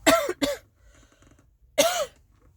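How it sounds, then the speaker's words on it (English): Two quick harsh coughs close to the microphone, a short pause, then one more cough. "Every time I breathe in, I want to cough."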